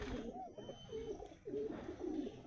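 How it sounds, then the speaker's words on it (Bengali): Male Madrasi and Giribaz high-flyer pigeons coo in a loft, with a soft rolling murmur of several overlapping coos repeating through the moment at a low, steady level. "দেখুন পায়রা, ম্যাড্রাস, গিরিবাজ সব ধরনের পায়রাই রয়েছে এখানে"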